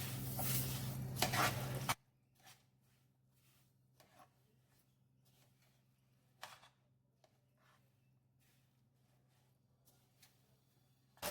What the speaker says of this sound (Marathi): शेंगदाणे वेलची पावडर चांगलं मिक्स करून घ्यायचं